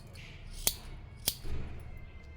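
Scissors trim the pleats of a saree with two crisp, quick snips about half a second apart. A soft rustle of the fabric follows, heard close up in a quiet room.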